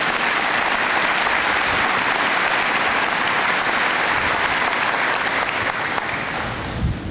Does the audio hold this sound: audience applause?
yes